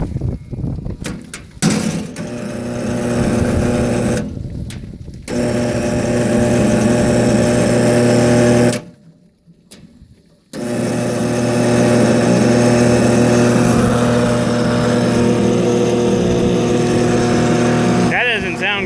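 A tractor engine runs loud and steady with a droning hum, cutting out briefly twice before resuming, and a voice speaks faintly over it near the end.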